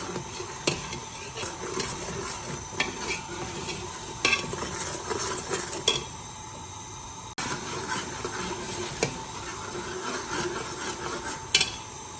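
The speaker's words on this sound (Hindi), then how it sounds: "मसाला भूनते हैं।" A spice masala fries in a pan for aloo methi, with a low sizzle under repeated sharp clicks and scrapes of a spoon stirring against the pan.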